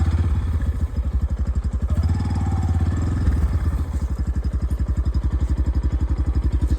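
A motorcycle rides into a farm field, its engine chugging in a steady, rapid rhythm of close, loud pulses that lasts the whole time, with a brief shift around the middle.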